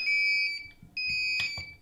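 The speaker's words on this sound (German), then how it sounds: "Der hier gibt intern einen Alarm" A nurse call device for Parkinson's patients gives its internal alarm, a loud, steady high electronic tone that sounds twice with a short gap between, close by and with no voices.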